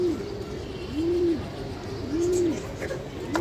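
Young racing pigeons coo in repeated rising-and-falling phrases, three clear coos spaced about a second apart, close and moderately loud over a low background rumble.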